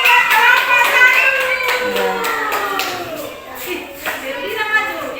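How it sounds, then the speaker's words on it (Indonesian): A classroom of students claps for a group, a quick burst of hand claps that fades as children's voices and chatter carry on over it. "Oke, tepuk tangan buat kelompok satu."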